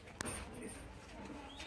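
Lakka pigeons, a double-feathered fancy breed, coo softly in a low murmur, with a brief sharp knock near the start and steady background noise.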